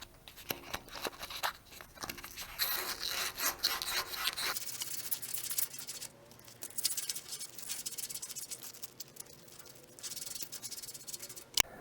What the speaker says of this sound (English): grab a piece of sandpaper and sand all the rust off of that